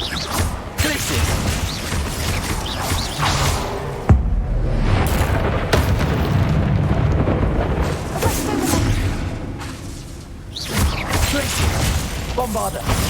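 Bombarda spell blasts in Hogwarts Legacy combat, repeated loud booms and crashes amid continuous battle noise and a sharp impact near the middle, with a voice calling out over it.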